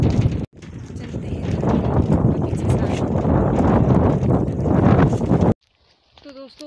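Cool wind blows outdoors in a Himalayan hill village, buffeting the microphone in a heavy, rumbling roar with gusty surges. It cuts out near the end, leaving near-silence and a brief faint chirp.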